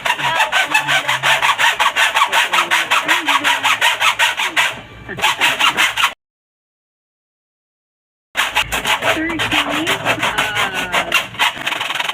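A 48-hole macaron mold being cut down to fit a 28-liter oven: steady, loud rasping saw strokes in a fast rhythm, a brief break and then a stretch of silence, then more sawing, with a radio drama faintly underneath.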